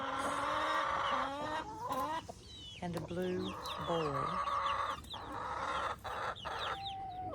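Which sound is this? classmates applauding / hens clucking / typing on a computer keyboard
hens clucking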